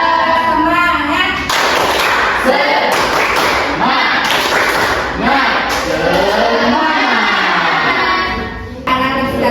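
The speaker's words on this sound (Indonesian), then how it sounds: "Oke, kita tepuk semangat dulu ya." A class claps out the rhythmic 'tepuk semangat' cheer, sharp loud claps in quick patterned bursts, with voices chanting along between them.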